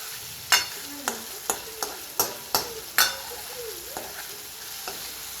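Tomatoes frying with onions for chicken biryani, stirred with a spoon: a series of sharp scraping clacks of the spoon against the pot, about one every half second, over a soft sizzle, with no talking.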